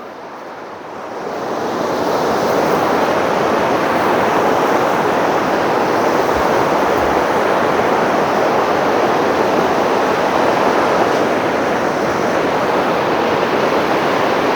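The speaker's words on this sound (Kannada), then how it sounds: "ಕೆಳಗಡೆಯಿಂದ ರಭಸವಾಗಿದೆ ನೀರು." Strong river water rushes below a mesh crossing near Tawang, a loud, unbroken roar that swells in over the first moments and then holds steady with no voices.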